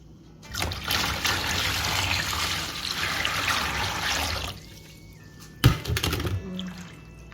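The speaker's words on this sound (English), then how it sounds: "I'm going to cool this down with some cold water" Cold water pours steadily into a container for several seconds, a splashing trickle, followed by a brief clunk and a few smaller splashes.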